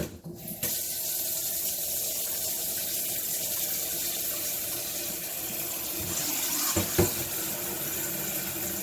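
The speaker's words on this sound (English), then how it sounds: "Fill up our pot." A cooking pot filling with water from a kitchen tap for steaming sticky rice, a steady close rushing stream that runs without a break for several seconds, with a faint knock near the end.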